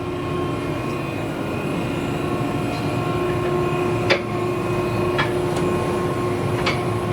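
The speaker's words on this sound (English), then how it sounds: "So now I'll turn the agitator to its second corner." A manure pit agitator runs on a dairy farm with a steady, loud mechanical drone and a constant engine hum. A few sharp clicks or knocks sound over the drone, and no one talks.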